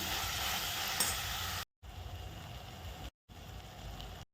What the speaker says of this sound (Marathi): पण तेल सुटेपर्यंत परतून घ्यायचं आहे